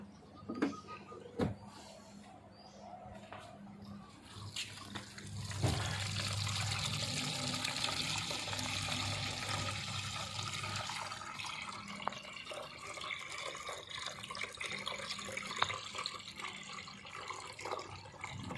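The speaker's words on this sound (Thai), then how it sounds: "เดี๋ยวเราจะมาปล่อย น้ำทิ้งนะครับ" A washing machine drains dirty water after a cleaning cycle, a steady rushing, trickling gush that starts softly, then swells into a loud continuous flow about a third of the way in and keeps running, with no talking.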